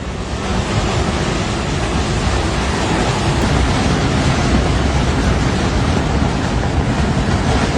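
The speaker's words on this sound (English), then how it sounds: "A dark wall of turbulent water blasted through the narrow Himalayan terrain." A Himalayan mountain flash flood sends a dark wall of turbulent water roaring through narrow terrain, a loud, unbroken rushing wash that holds steady throughout.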